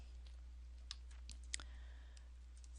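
A few soft clicks of keys on a computer keyboard, faint and irregular, over a low steady hum.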